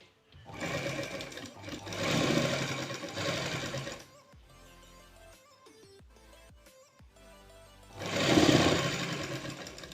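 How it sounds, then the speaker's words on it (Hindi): Sewing machine stitching a new zip into trousers: two loud, close bursts of rapid mechanical stitching with a quieter stretch of slower whirring between them. "फिर हम सिलाई कर लेते हैं।"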